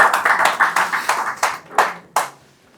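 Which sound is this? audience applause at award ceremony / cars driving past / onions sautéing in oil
audience applause at award ceremony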